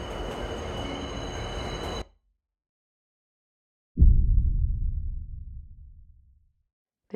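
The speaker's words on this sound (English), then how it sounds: "The train had stopped halfway on the tracks." Train on the tracks, a loud rumbling roll that cuts off abruptly into silence, followed by a single heavy impact that decays slowly over a couple of seconds.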